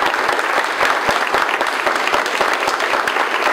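A school audience claps steadily and loudly for a man, dense applause that holds at an even level throughout with no talk over it.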